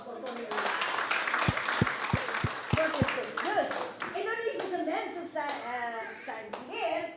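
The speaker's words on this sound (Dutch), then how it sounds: "nog een keer applaus voor koning Jezus" A church congregation claps and applauds for King Jesus during a live service, steady hand clapping under an ongoing voice and crowd talk, with a few louder thumps near the start.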